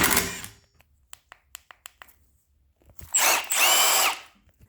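Impact drill spinning off the 15mm wiper arm nuts on a Ford Focus: a short burst, then scattered ticks and clicks, then a second longer whirring burst, close and loud.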